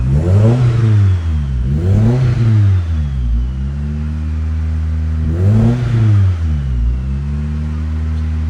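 A cold car engine, just back from injector work, is revved three times. Each rev swells and falls away from a loud, slightly stumbling idle, heard up close with no talking.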